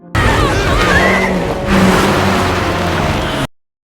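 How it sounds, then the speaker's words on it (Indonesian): A car sways off balance and slams into a ditch, giving a loud, continuous rush of engine and skidding noise that swells midway and then cuts off abruptly near the end. "Mobil oleng, kehilangan keseimbangan, lalu menghantam parit dan berhenti dengan dentuman yang terasa seperti akhir segalanya."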